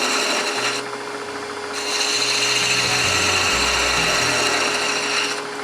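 A lathe tool cuts into spinning wood while a vase neck is turned, giving a steady scraping rasp over a low motor hum, close and moderately loud, with brief shifts in pressure.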